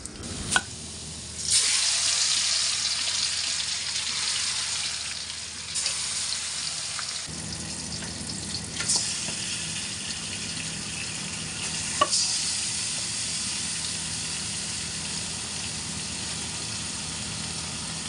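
Pieces of country chicken tipped onto onions already fried deep red, a loud sizzle that surges as the meat lands, then settles into steady frying with occasional stirring scrapes.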